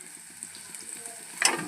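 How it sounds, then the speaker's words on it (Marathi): Onion frying in a pan, a soft steady sizzle with faint rhythmic stirring scrapes and a brief louder hiss burst near the end. "छानपैकी कांदा तळून होते."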